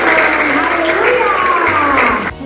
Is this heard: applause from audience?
yes